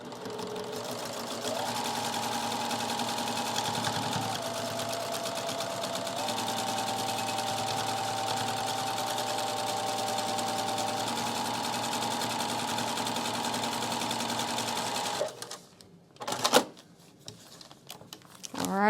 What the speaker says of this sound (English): Take that over to the sewing machine, and you are just going to sew straight up that line.